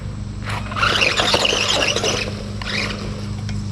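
An RC car's wheels spinning with one side stalled while the other turns, its low-quality gears grinding; a loud, sustained harsh squealing rasp that surges for about two seconds, then returns more briefly.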